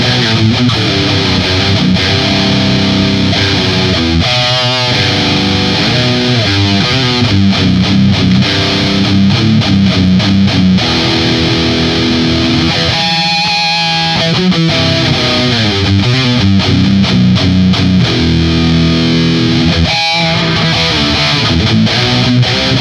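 Electric guitar played through a Marshall DSL1 1-watt amp with an MXR Classic Overdrive boosting it, loud and thickly distorted, chords and riffs ringing out continuously with brief pauses and chugging rhythm.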